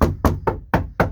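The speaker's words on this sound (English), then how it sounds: "knock on it if you want to mount the TV" Five hollow knocks on the thin bedroom wall of a Heartland Pioneer BH280 RV trailer, evenly spaced, loud and close.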